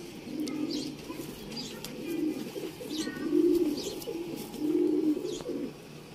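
Rampuri pigeons kept for sale coo in repeated soft, rolling phrases, about four pulsing bursts close by, with faint chirps in the background.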